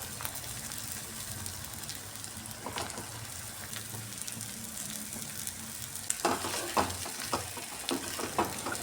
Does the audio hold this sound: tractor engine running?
no